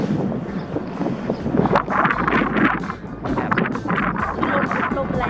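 Strong wind buffets the microphone outdoors in Abisko, northern Sweden, a loud, continuous gusting roar with surging bursts throughout.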